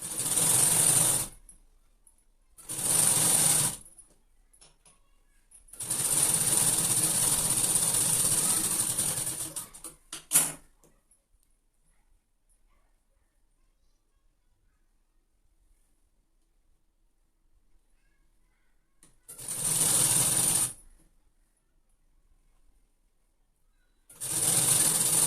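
A sewing machine stitches a strip onto the bottom of a sleeve for a petticoat blouse set, running in loud bursts of rapid whirring stitches separated by long silent pauses, with a sharp clack partway through.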